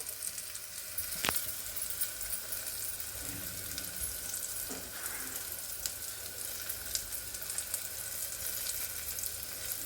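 Asafoetida tempering in hot oil for a tangy raw-mango dal, giving a steady close frying sizzle throughout with a sharp click near the start and a few small clinks.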